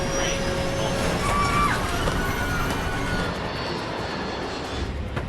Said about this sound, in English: There's an aircraft crashing